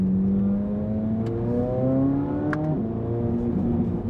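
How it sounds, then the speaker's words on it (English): A Corvette C8 Z06 with a dual-clutch transmission, its engine droning steadily, then blipping sharply through quick shifts with stepped changes in pitch, heard from inside the car. "Downshifts are nice and punchy."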